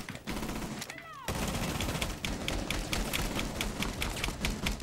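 Rapid bursts of gunfire in a video game rattle out as dense, fast shot sequences, one sweeping whoosh in between, with players talking underneath.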